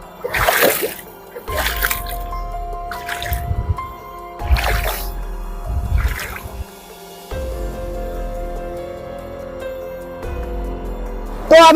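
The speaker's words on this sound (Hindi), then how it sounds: "तो अभी हम आधी नदी पार कर चुके हैं इस तरफ का" Water splashes and sloshes as people wade across a clear river in a forest, heavy uneven steps in bursts, close and loud, with a trickle between them.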